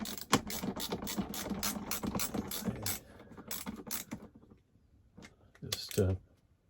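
Screws driven back in to mount a 3000 watt inverter inside a Pleasureway camper van, rapid metallic ratcheting clicks for a few seconds, then a pause and one final short burst.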